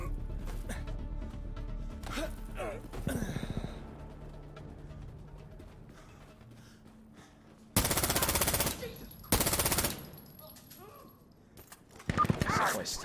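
Video game gunfire arriving as a few loud, sudden automatic bursts separated by quieter game ambience, with a voice talking in between.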